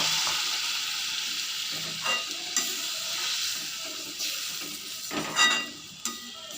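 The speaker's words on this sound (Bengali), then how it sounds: "এখন আমি বেশ কিছুটা জল অ্যাড করব।" Spicy masala for a prawn curry sizzling in a pan, a steady hiss of frying with a few soft stirring clatters and bursts as water goes in, close and fairly quiet with no voices.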